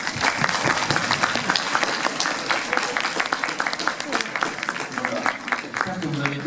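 Sustained audience applause fills a convention hall after a talk at an Asian culture expo, with dense continuous clapping, a few voices and crowd noise mixed in, and a voice rising near the end.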